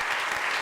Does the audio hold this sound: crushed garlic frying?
no